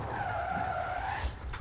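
Tires skid hard under braking on a 2021 Bentley Continental GT convertible during a brake test, a sustained squeal lasting over a second before a short rumble as the car settles; loud and close, with no talk.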